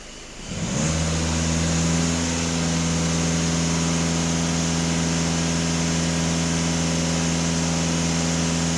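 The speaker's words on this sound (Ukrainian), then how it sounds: "даю газ в пол" A VW Golf GTD diesel engine, checked for a clogged particulate filter, rises from silence into a loud steady drone held high at full throttle, close and continuous without talk.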